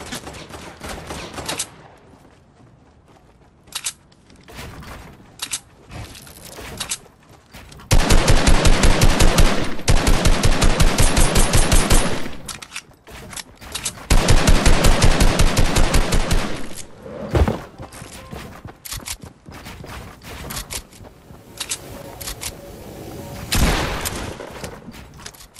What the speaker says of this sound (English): I'm getting shot up from everywhere